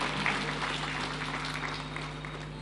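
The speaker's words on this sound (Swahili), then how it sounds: "Tumpigie makofi jameni, rais wa Comoros." An audience applauds the President of Comoros at a formal state event in Embu, a steady wash of distant clapping over a low electrical hum.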